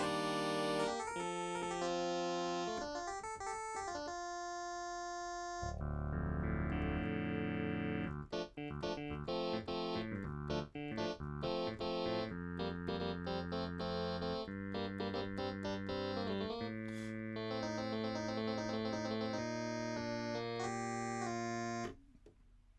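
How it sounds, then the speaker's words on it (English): A synthesizer set to an electric piano tone plays a steady stream of buzzy, bright notes and chords, loud and continuous with no voices. "Electric piano."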